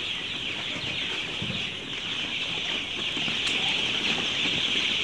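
Fourteen-day-old colour-bath chicks on a poultry farm fill the space with a dense, continuous chorus of high chirping and cheeping, steady and close, with no speech.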